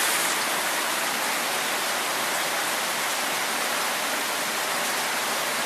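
Rain falls steadily outdoors on a rainy Sunday, a constant, even hiss of drops with no breaks and no voices.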